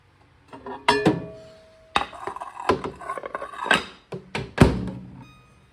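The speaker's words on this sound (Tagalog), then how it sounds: "Lalagay naman natin sa kawali." Cheese-topped food is moved into a frying pan (kawali) in a home kitchen, making a series of close, sharp clatters and thunks of cookware and utensils, spaced irregularly with short pauses between them.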